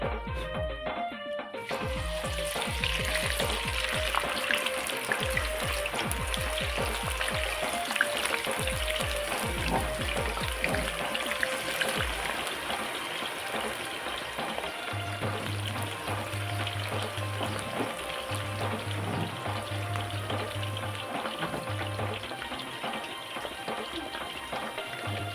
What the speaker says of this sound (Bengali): কলাগুলো সব কাটা হয়ে গেছে, এদিকে তেল গরম হয়ে গেছে। এখন এগুলো সব ছেড়ে দেবো এক এক করে।